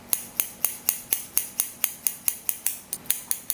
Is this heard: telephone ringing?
no